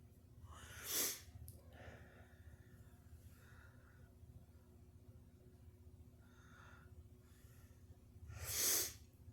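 Two quiet sneezes about eight seconds apart over a low steady hum, with soft breathy snorts and sniffs in between.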